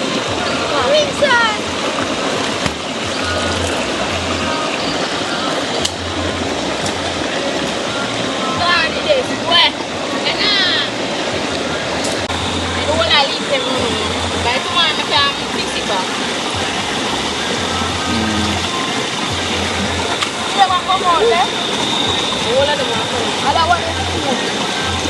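River water running over rocks while leaves are cleared from it, a constant rushing, splashing flow close by with occasional sharper splashes, and people talking intermittently over it.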